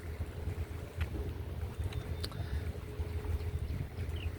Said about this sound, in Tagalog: Sarap ng hangin dito, oh.